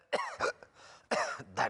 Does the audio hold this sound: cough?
yes